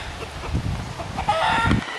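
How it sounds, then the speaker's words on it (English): Agitated roosters squawking and crowing in a scuffle, with flapping and clucking bursts that grow louder toward the end. "The roosters were fighting and Brendan went to break it up."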